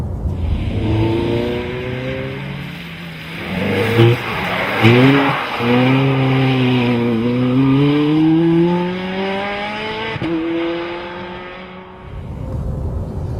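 A Ferrari 430 Scuderia on an open road accelerates hard, its engine note climbing through rising revs with shifts around the middle, loud and close, with a brief drop near the end before it picks up again.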